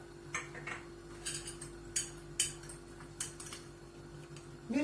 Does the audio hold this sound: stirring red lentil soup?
yes